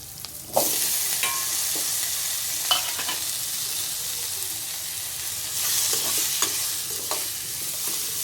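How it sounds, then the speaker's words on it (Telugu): Drumsticks sizzle and fry steadily in a pan for a tomato curry, with a constant loud hiss and a few sharp scrapes and clinks as they are stirred, the sizzle swelling louder near the end. "ఇప్పుడు మునక్కాయలు వేసుకున్నాం ఫ్రెండ్స్"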